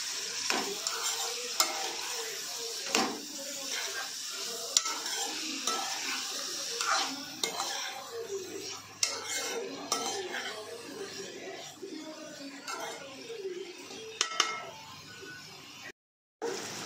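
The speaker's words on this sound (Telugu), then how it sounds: "ముందుగా మనం పాలార్చుకున్న చిక్కుడుకాయలు దీంట్లో వేసేసుకోవాలి. వేసేసుకొని బాగా తిప్పుకోవాలి." Boiled flat beans stirred in a sizzling pan, with a spoon scraping and clinking against the metal over a steady frying hiss, a near and continuous sound with a brief break near the end.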